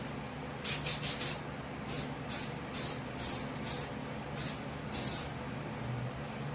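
Short hissing bursts of Rust-Oleum spray paint on a Honda EG5000 generator, about nine quick squirts of varying length, sometimes in rapid pairs, close and fairly quiet over a low background hum.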